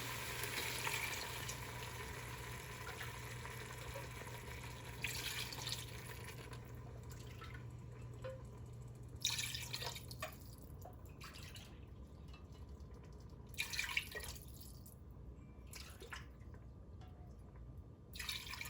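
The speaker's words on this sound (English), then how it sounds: "we can now add about 6 cups of water" Water splashes steadily into a pot of sautéed pork ribs for a taro sinigang, hissing and sizzling against the hot pan with drips as the pour tapers off.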